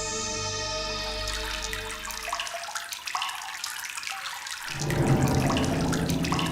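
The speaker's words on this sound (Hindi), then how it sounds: "लग रहा पानी निकल रहा है।" Water gushes steadily from a household tap, a continuous splashing hiss that grows fuller near the end, heard alone without voices.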